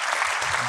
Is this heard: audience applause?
yes